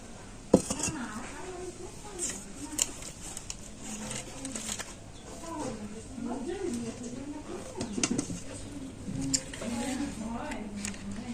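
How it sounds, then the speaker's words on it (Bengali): A spatula scrapes and taps against a box while levelling almond and milk barfi mixture, giving scattered light clinks and knocks, some sharp and close, under ongoing talk. "আর এবারে খুন্তি দিয়ে এটাকে একটু সমান করে দেব"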